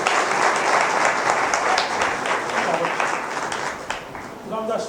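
A church congregation at Sunday worship applauding, a broad wash of clapping from many hands that carries on steadily and fades slightly, with a voice speaking near the end.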